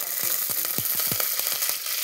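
Mustard seeds and curry leaves sizzle in hot oil for a ridge gourd curry, with a constant hiss broken by rapid, irregular popping crackles.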